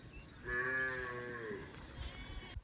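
A buffalo gives a long, loud mooing call close by in a village setting, its low harmonic bellow rising and then falling over about two seconds against quiet rural background noise.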